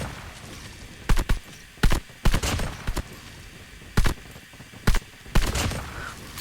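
Shots from a CR-56 AMAX assault rifle in a video game ring out in short separate bursts, loud and close, with quiet gaps between the volleys and no talking.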